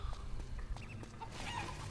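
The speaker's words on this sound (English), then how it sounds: "And chickens!" Chickens cluck and squawk in Metal Gear Solid 4: Guns of the Patriots on PS3, a busy run of short, scratchy fowl calls at moderate distance over a soft ambient background.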